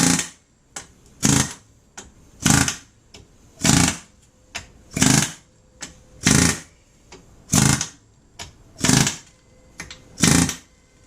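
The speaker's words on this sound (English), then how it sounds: "I'm using my right foot here to stop the trailing arm from running away as I'm hitting it with the hammer." A hammer strikes a car suspension trailing arm during a coilover installation, with about nine loud, close metallic blows at a steady, slow rhythm and short pauses between them.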